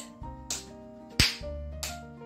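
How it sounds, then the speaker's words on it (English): Three or four sharp, separate hand claps crack at uneven intervals over a steady background of music during a toddlers' activity session. "Clap your hands."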